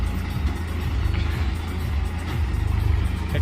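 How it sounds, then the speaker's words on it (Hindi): A Mahindra 575 tractor drives along with its diesel engine thumping in a steady, close, loud rhythmic chug throughout. "ट्रैक्टर चला रहा है"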